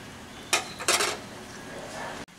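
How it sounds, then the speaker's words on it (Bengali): A metal lid set onto a pot of boiling vegetables for a sour-spicy raw mango curry makes two quick, close clanks, followed by a faint bubbling simmer. "এখন আমি এটাকে প্রায় ছয় থেকে সাত মিনিটের জন্য ঢেকে দিলাম"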